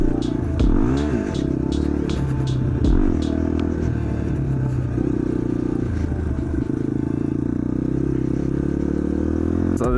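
A motorcycle rides and pops wheelies near big hills and ramps, its engine rising and falling in pitch with revving surges and rattly clatter, loud and close with wind noise.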